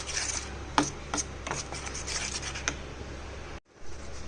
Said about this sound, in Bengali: চলো বেকিং পাউডারটা ভালো করে